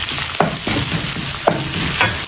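Tomato paste sautéing with onion and garlic for pork menudo sizzles steadily and loudly in the pan, with a few quick scrapes from a stirring utensil.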